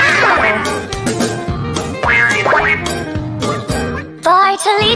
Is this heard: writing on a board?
no